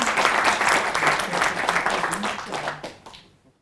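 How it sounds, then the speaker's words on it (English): A lecture audience claps for a professor after a talk on trust building. The applause is loud and close, runs about three seconds with faint voices mixed in, and then dies away quickly into silence. "All right, another round of applause."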